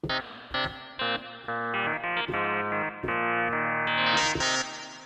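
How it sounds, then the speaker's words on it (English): A bright, harmonically rich FM-synthesized tone, built from sine waves, plays a quick sequence of sustained notes at changing pitches, washed in reverb so the notes blend into one another. "this is FM synthesis. I'm sending the same frequency, so the same sine wave into here"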